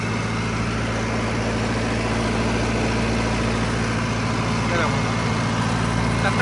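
A Mahindra Arjun NOVO tractor engine runs steadily at 1700 rpm with heavy vibration, a continuous loud low drone and rattle throughout, close by, with no break in the sound.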